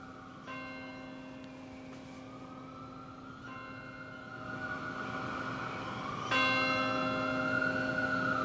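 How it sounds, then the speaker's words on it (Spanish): A large memorial church bell given by the City of London for September 11 tolls three times, each strike ringing out with a long, shimmering hum that fades before the next, heard alone against a quiet outdoor background. "mientras veíamos esta campana la hacían sonar"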